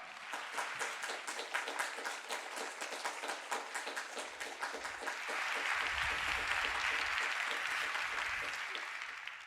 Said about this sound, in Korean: 강사님 나오실 때 힘찬 박수로 환영하며 맞이하겠습니다.